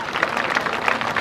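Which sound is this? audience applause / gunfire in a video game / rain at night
audience applause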